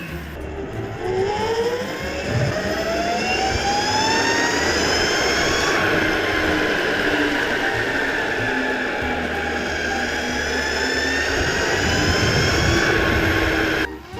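A Mini Monster Neo electric skateboard motor whining under hard acceleration, a loud sustained rising electric whine over road rumble that drops briefly and climbs again across the run.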